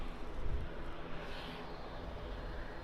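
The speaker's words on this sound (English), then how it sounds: "that privileged style A321's taxiing out now as well" An Airbus A321 airliner taxiing at Birmingham Airport, a broad steady engine roar and hiss heard from a distance, fairly even throughout.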